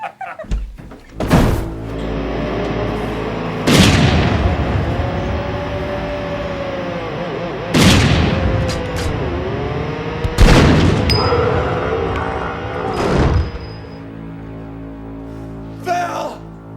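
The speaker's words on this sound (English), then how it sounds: "Hogg accidentally shoots the fiancé." Gunshots ring out in a scene from the 1990s TV series Renegade, several sharp loud bangs spaced a few seconds apart, each with a ringing tail, over a tense background of music or rumble.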